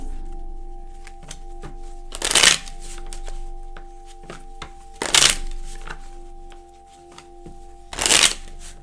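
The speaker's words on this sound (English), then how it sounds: "let me shuffle the majors" Three crisp bursts of tarot cards being shuffled, spaced a few seconds apart, with quieter taps and faint steady hum between them.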